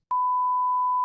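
A loud, steady censor beep, one continuous pure tone lasting about a second, with nothing else around it.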